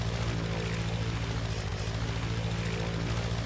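Helicopter lifting off, a steady loud rotor and engine drone with a pulsing blade beat, continuous and close throughout.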